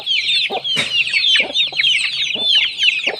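Several chickens cluck close by in short repeated bursts, overlapping high chatter of chirps from a flock, loud and busy without any talk.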